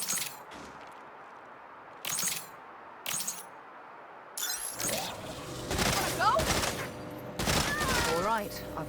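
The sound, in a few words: quantum aperture gun shooting targets in the video game Saints Row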